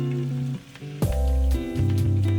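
Shrimp tempura frying on an induction burner, a steady close sizzle under loud tonal background music.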